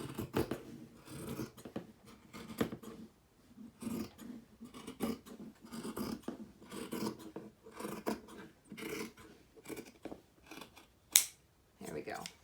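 Scissors cutting through trench coat fabric, heard as quiet, irregular snipping and rustling that comes in bursts throughout, with one sharper click near the end.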